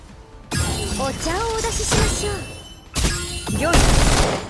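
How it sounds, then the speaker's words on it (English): Bursts of gunfire at a boss in the game Girls' Frontline 2, loud blasts and crashing impacts coming in two heavy waves, with character voice lines speaking over the shooting. "so we're just gonna shoot the boss"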